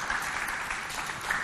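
Audience applause at a holiday quiz competition between two community coordination teams, a dense steady wash of clapping filling the room without a break for the whole moment.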